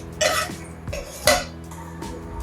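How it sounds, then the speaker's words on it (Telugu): A spoon stirring tempering into chutney in a pan, with three or four distinct scraping, clinking strokes of metal against the pan, close and fairly loud, separated by brief pauses. "ఇప్పుడు ఈ చట్నీని ఒకసారి కలిపి మనం పోసేసేద్దాం"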